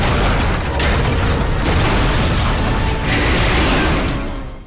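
A steel tank's cannon fires with a loud, sustained explosive roar that fills the space, a dense rumbling blast that holds steady before fading slightly at the end.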